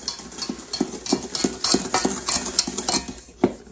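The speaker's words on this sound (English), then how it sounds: "my utensil here and kind of stir that up a little bit before I put some wet ingredients in it" A utensil stirs dry ingredients for a lemon blueberry loaf in a bowl, making steady rhythmic scraping strokes, close and fairly loud, with no voices.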